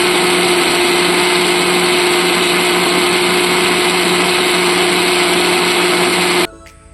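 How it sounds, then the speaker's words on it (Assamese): An electric mixer grinder whirs loudly and steadily for several seconds, grinding mustard seeds with a little water into a paste, then cuts off abruptly near the end. "এয়া আমি মিক্সাৰত সৰিয়হ পেষ্টখিনি বনাবলৈ লৈছোঁ"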